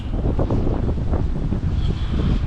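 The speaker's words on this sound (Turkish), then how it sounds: "Hava da bayağı rüzgarlı." Strong wind in Moldova buffets the microphone in a constant low roar, loud and steady throughout with gusting rumbles and no voices.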